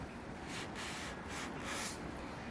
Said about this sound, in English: I'm just going to wipe it off with a damp rag